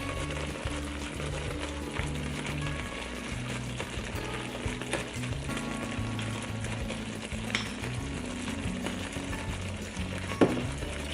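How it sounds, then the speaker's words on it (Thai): Red kaeng khua curry paste frying with coconut milk in a pan for a pineapple and shrimp curry, a steady close sizzle with stirring and a few scrapes, without speech. "เดี๋ยวเราจะเอา น้ำพริกแกงคั่วลงผัดค่ะ"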